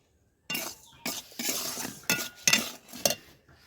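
Salt being roasted in a metal pan for homemade black salt is stirred with a spoon, giving several scraping, gritty strokes with sharp clinks, close and fairly quiet, separated by short pauses.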